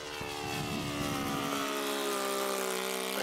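A radio-controlled Corsair model airplane makes a low pass, its engine a steady droning whine that rises slightly in pitch as it sweeps by, continuous and fairly close, with no talking.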